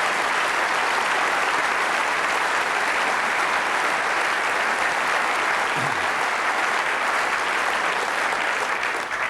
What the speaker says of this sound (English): A round of applause, I think, for a marvellous year.